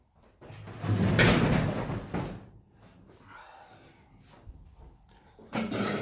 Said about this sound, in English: let me just open my garage door a bit